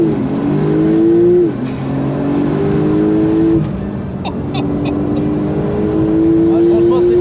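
Porsche GT Street R with 800 hp accelerating hard from a launch, engine note climbing through rising gear pulls with brief shift breaks, loud from inside the cabin while people talk over it.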